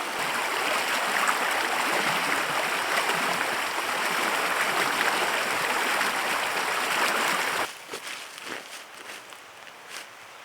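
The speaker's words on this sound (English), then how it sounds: "This is the outflow from the spring as it meanders its way through the valley to Big Sugar Creek." Outflow from a spring meandering through a valley toward Big Sugar Creek, a steady close rush of flowing water that drops abruptly to quieter trickling and footstep-like rustles near the end.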